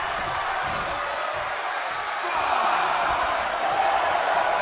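The crowd in a WWE 2K24 video game wrestling arena gives a continuous roaring wash of noise that swells slightly louder in the second half, broad and enveloping without clear individual voices.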